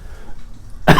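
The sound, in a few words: coughing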